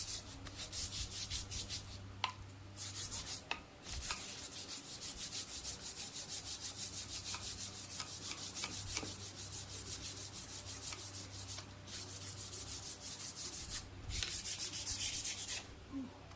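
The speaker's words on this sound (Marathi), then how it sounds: "आणि लाटण्याला पण असं पॉलिश पेपर फिरवायचा." A wooden rolling pin is rubbed with sandpaper in fast, even back-and-forth strokes, close and continuous, with a few brief pauses between runs.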